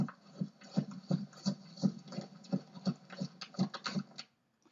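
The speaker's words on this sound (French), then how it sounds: "nous avons des pas sur la neige" Footsteps crunching on snow, about a dozen steady, evenly spaced crunches at walking pace, fairly soft and close, stopping abruptly at the end.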